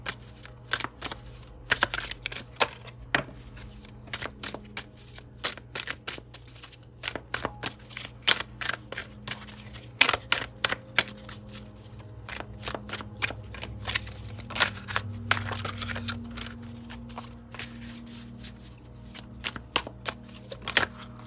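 A deck of tarot cards being shuffled close up for a twelve-card reading, with rapid riffling and snapping bursts repeating steadily throughout and no talking.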